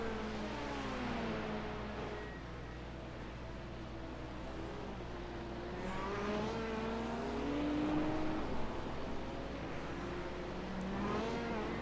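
An IMSA race car engine in a racing video game, revving and shifting through rising and falling pitch sweeps, steady and moderately loud with no talk, heard from the driver's position over a lap.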